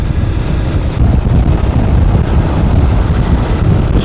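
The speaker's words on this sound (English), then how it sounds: "I'm getting loads of wind noise coming off this screen onto my helmet" Steady, loud roaring wind buffeting a motorcycle helmet as air spills off the screen of a 2025 Voge DS900 X at speed, a dense low rumble filling the whole stretch without pause.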